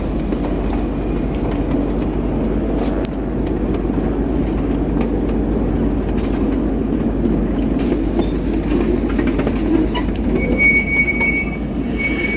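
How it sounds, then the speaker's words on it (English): A freight train led by three locomotives, including a Norfolk Southern unit, rolls past at Elkhart with a loud, steady rumble of wheels on rails and occasional high squeals from the wheels. "there was a train coming. This train was led by 3 locomotives"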